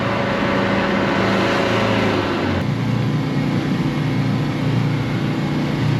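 Mahindra Roxor off-road vehicle driving through snow, its engine droning steadily and loudly near the microphone, with a pitch drop partway through as it shifts or eases off the throttle.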